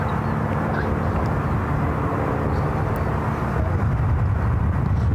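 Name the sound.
airliner landing on runway 28 left at SFO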